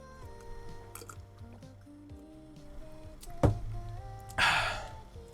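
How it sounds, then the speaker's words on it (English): A short slurping sip of morning coffee taken close to the mic, over soft background music, with a couple of faint drips and a small clatter. "Big sip."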